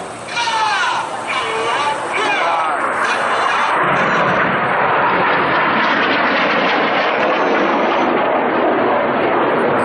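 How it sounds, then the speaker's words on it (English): Loud, roaring jet engine noise from seven display aircraft of a formation team pulling vertical at the New York Air Show at Stewart International Airport, a sustained wash of engine roar overhead with a commentator talking over it. "7 aircraft pulling to the vertical, about to make a beautiful palm tree."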